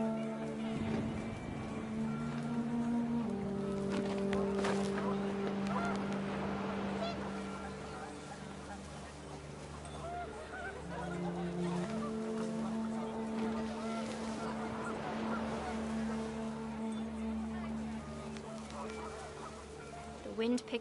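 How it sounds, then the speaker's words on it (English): Geese honking and a roar of wind in the video game What Remains of Edith Finch, repeated nasal calls over a steady rumbling bed. "The wind picked up, and panicked geese appeared and quickly went."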